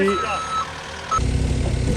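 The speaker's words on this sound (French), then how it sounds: "en train de reculer avec le camion" A truck reversing to load wood sounds steady backup beeps, then a louder diesel engine rumble rises midway, with voices faintly underneath.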